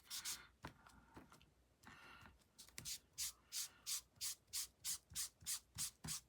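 An ink applicator is rubbed over cardstock to build a rustic barn-board patina on a Christmas card. A few scattered scuffs give way to a steady run of about a dozen quick, rhythmic rubbing strokes, close and fairly soft.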